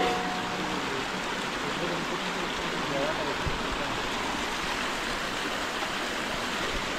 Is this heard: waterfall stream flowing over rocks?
yes